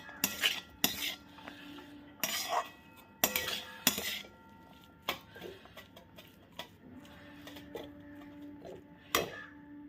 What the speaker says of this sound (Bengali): দিয়ে এটা দিয়ে খুব ভালোভাবে নাড়াচাড়া করে মিশিয়ে নেব।